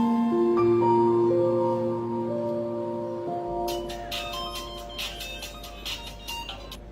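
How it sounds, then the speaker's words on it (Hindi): A phone on an outgoing call plays a tonal melody of steady held notes in a soap-opera drama, followed by a faint buzzing, rattling texture; no one talks over it. "मुनीर को कॉल करो।"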